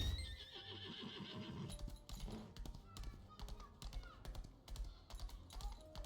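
A horse in the online role-playing game Lost Ark, heard as whinnying and clip-clopping hooves over a dense bed of game music and effects, with a run of sharp clicks near the end.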